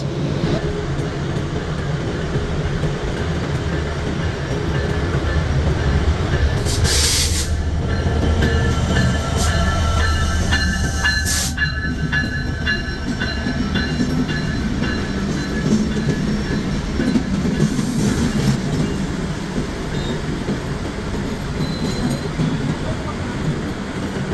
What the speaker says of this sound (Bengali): উল্লাপাড়া রেলওয়ে স্টেশনের অপর প্ল্যাটফর্মে প্রবেশ করছে ঢাকা থেকে ছেড়ে আসা পঞ্চগড়গামী একতা এক্সপ্রেস